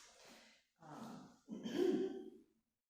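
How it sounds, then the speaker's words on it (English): Alternate nostril breathing in a pranayama yoga exercise gives three soft, close breaths, each an airy nasal rush separated by short pauses, the last one longest and strongest. "that's alternate nostril breathing, or Nadi Shatana Pranayama"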